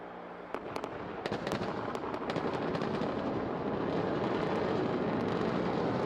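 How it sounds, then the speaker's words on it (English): A SpaceX Falcon 9 first stage firing its engines for the landing burn, a continuous loud broadband roar laced with sharp crackling pops that builds and holds steady throughout. "Stage 1 landing burn."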